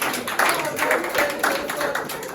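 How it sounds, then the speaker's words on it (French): Church congregation at a singles' seminar applauding, a loose, moderately loud patter of clapping with irregular surges and some voices mixed in. "On applaudit le royaume pour ça."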